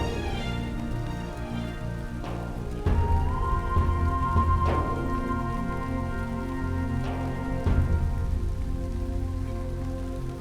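Steady rain pattering on a surface, with a constant wash of sound and a few sharper drips and knocks, with no one talking.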